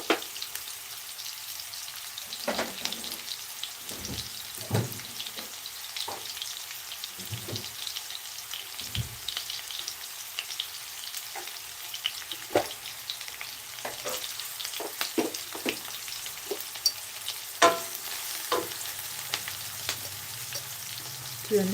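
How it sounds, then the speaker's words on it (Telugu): Cluster beans curry being stirred and fried in a pan, a soft steady sizzle with scattered scraping and clinking of the stirring spoon, close but fairly quiet, no talking. "ఇలా ఫ్రెండ్స్ వీటిని చక్కగా ఇలా కలుపుకోవాలి"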